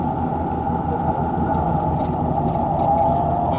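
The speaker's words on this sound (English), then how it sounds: "That's just a car." A car passes on a highway during a blizzard with 30-mile-an-hour gusts, heard as a steady loud roar of road noise and wind from inside a moving vehicle.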